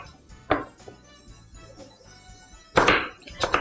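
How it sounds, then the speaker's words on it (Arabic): Knife chopping an onion into cubes on a cutting board, a few sharp close knocks spaced apart with a quieter scraping background, no talking. "كده، هقطع البصلة"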